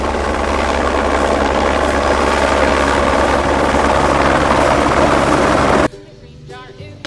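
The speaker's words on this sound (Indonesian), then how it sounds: "Kira-kira ini helikopter apa ya?" A military helicopter of the Indonesian army roars loudly and steadily nearby with a throbbing rotor drone, then cuts out sharply near the end, leaving quieter background sound.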